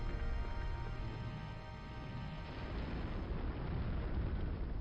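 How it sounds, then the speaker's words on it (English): Rumbling explosions in a 1995 Dark Forces game cutscene, a dense, continuous low roar with shimmering high tones, steady and fairly loud throughout with no voices. "Sounds like possibly explosions happening."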